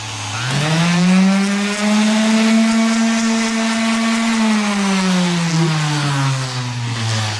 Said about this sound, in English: Now, all I gotta do is sand.